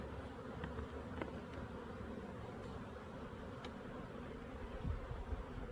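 Honeybees buzz steadily close by while a beehive is split by the shake-down method, a dense continuous drone with faint clicks and knocks from frames, and no voices.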